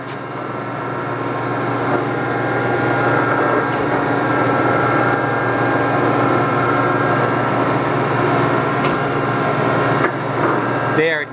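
Hanchett VR series 122-inch knife grinder running at a machinery dealer in New Jersey, a steady mechanical hum and grinding drone with a faint rhythmic churn, continuous throughout and ending in a brief clank.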